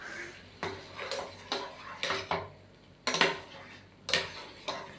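A spoon or spatula stirs a sweet palvayakka mixture in a metal pan, scraping and clinking against the pan in repeated strokes, moderately close and with no talk.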